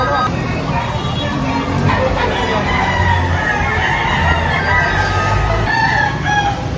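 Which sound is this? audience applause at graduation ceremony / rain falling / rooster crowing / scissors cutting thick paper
rooster crowing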